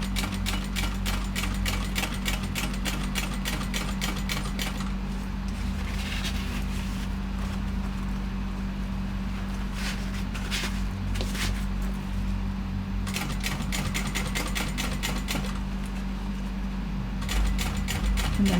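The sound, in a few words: sewing machine stitching a shoulder bag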